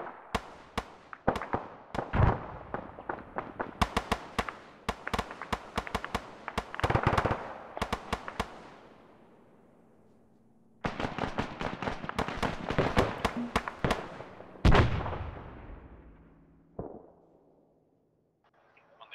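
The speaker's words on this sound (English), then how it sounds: "Outgoing mortar fire audio." Outgoing mortar fire in the video game Arma 3: a series of sharp, loud booming launches with some rapid clusters, each trailing off in a long echo, with gaps between volleys and a quieter distant boom near the end.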